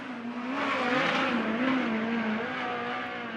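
USAC midget race car lapping the Merced track in California during qualifying night, engine note droning steadily and loud for the whole stretch with slight pitch swings as it rises and falls through the turns.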